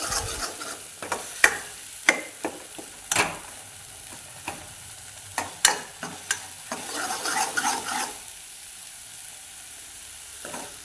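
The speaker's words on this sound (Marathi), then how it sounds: "हे छान असं तेल सुटूपर्यंत परतत राहायचं. असं सारखं हलवायचं, मसाला करपल्या जात नाही." Black masala frying in oil in a kadhai, a low steady sizzle punctuated by sharp scrapes and taps of a spatula as it is stirred repeatedly at an irregular pace.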